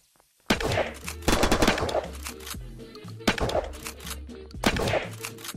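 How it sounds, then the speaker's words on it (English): Gunfire from players shooting in the battle royale mode of the video game Unturned, several loud bursts of rapid shots with a pause between volleys and a low droning ambience beneath. "But I heard people shooting right in front of me."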